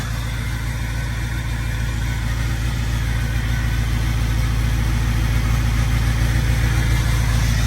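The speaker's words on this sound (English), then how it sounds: "I'm gonna let this truck warm up" A truck engine idles steadily while warming up on a cold morning, a loud, close, low rumble with a constant throb that holds unchanged throughout, no voices.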